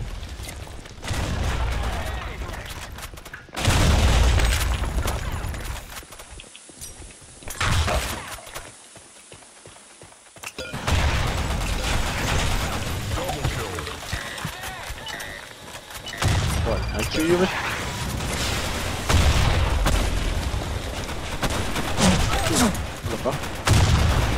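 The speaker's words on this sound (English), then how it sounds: "It's time to test my rifle, bro." Rifle gunfire in the first-person shooter game Blackshot, with bursts of shots coming in loud clusters separated by quieter stretches, mixed with game noise and occasional talk.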